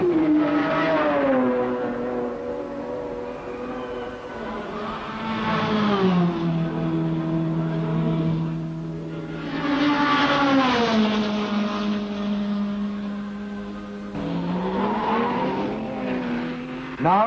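Race cars at Le Mans, among them an Alfa and a 5.5-litre Iso Rivolta, roar past in successive waves, engines rising and falling in pitch as they approach and recede, a narrator's voice faintly underneath.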